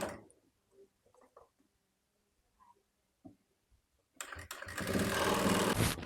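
Sewing machine running a steady stitch on baby frock fabric, starting after a few quiet handling clicks and rising to a loud continuous whir that holds to the end.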